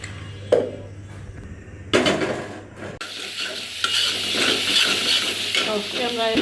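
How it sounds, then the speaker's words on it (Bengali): Garlic and onion fry in a pan: a few close scrapes and knocks of stirring come first, then a loud, continuous sizzle spreads and carries on steadily to the end. "আমরা রসুন পেঁয়াজ এসব ভাজা নিচ্ছি"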